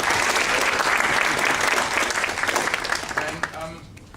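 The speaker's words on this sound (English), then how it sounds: "If we can give Professor Mhango a warm applause." A hall audience at a judiciary discussion evening gives warm applause for Professor Mhango, the acting head of school, sustained and steady before tapering off as a voice begins.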